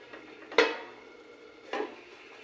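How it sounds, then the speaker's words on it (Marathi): A metal cooking pot lid is lifted off with a sharp clank and set back down with a second, softer clatter about a second later, with steam hissing faintly in a quiet kitchen. "झाकण काढू पहिलं आपण।"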